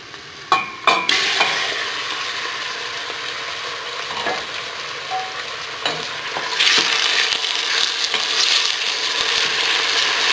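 Onions sautéing in a pan for braised beef make a close, steady sizzle, broken by a few sharp scrapes and clinks of stirring, with the frying growing louder toward the end.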